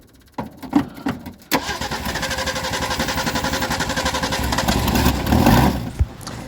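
A 1960s Ford Bronco engine cranks briefly, catches and settles into a steady, loud, close running drone with a rhythmic throb, revving slightly toward the end before a sharp knock.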